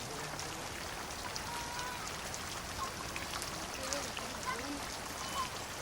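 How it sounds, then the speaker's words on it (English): Heavy monsoon rain pours onto palm leaf thatch on the Coromandel Coast, a dense, even hiss of countless drops that holds steady throughout at a moderate, somewhat distant level. "During the monsoon season, the palm leaf thatch withstands the downpour."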